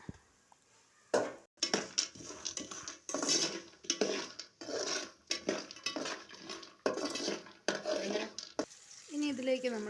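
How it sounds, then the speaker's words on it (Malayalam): Peanuts fried and stirred in a pan: a spoon repeatedly scrapes and clatters against the metal in uneven bursts, close and fairly loud, ending with a brief softer sizzle. "ഇനി ഇതിലേക്ക് കപ്പലണ്ടി വറുത്ത് കോരണം."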